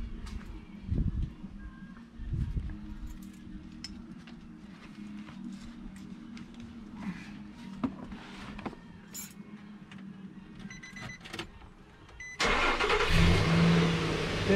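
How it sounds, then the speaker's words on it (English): A 2010 Nissan Frontier engine cranks and starts, then settles into a steady, fairly loud idle near the front of the truck, following a quieter stretch of background rumble and small handling noises. "I need to start the vehicle up."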